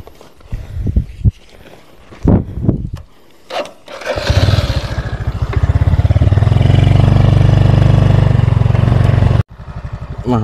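Motorcycle engine revving steadily as the bike ploughs through soft peat swamp ground, loud and close for several seconds after some scattered knocks and rustles, then cutting off abruptly near the end.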